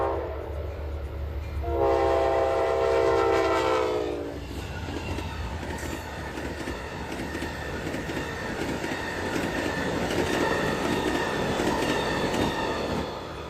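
An Amtrak Lake Shore Limited passenger train rushes past at speed, opening with a loud sustained horn blast that falls in pitch, then a steady roar of wheels and rattling cars with rhythmic clickety-clack continuing to the end.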